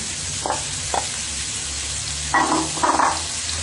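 Cabbage and raw vegetables fry in a pan for fried rice with a steady close sizzle, punctuated by brief scraping stirs and louder bursts of crackle.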